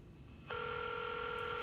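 A telephone dial tone in the video game Reverse: 1999 switches on abruptly after a faint hiss and holds as a steady, clean electronic two-tone hum, quiet and uninterrupted in a still room.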